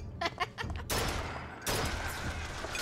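Chain gun fire in BioShock Infinite, a few quick shots followed by two long sustained bursts of heavy rapid fire, loud and close.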